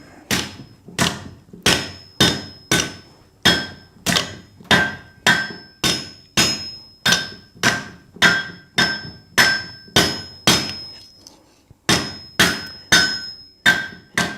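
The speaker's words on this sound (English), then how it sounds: "if you're noticing how my hammer is striking, to make that nice sharp corner" Blacksmith's hammer striking steel while forging a hoe: about twenty sharp, ringing metallic blows in a steady rhythm, close and loud, with a short pause near the end before the strikes resume.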